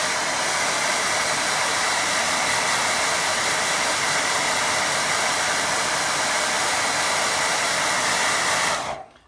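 A hair dryer blows steadily and loudly on a watercolour painting of a distant lake, a continuous broadband rush that holds for about nine seconds before cutting off abruptly at the end.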